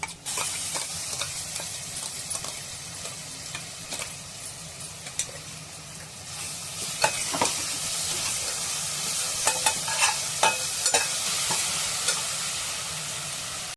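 Spice paste sizzles and fries in a hot pan while being stirred for Kolhapuri-style masale bhat, a loud continuous crackling hiss with scraping stir strokes and occasional sharp pops, close up with no talking.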